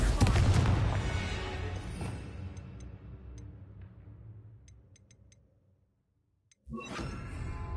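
A Confringo fire spell blast in Hogwarts Legacy bursts loud at the start and fades over several seconds under faint ticking, falls silent, then a second strong burst cuts in near the end.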